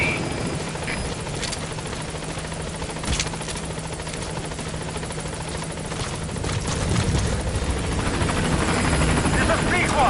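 Pequod transport helicopter from Metal Gear Solid V approaching a landing zone, a steady rotor drone and engine hum running throughout, growing slightly louder toward the end, with a radio voice speaking over it.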